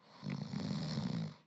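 A single long snore, a rough, rumbling inhale that swells and holds for over a second before fading out, heard alone and fairly close.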